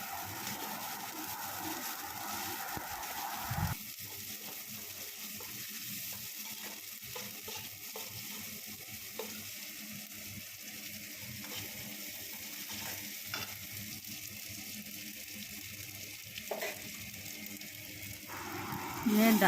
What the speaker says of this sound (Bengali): ডালটাকে দেওয়ার পরে ভালো করে নাড়াচাড়া করে নেব।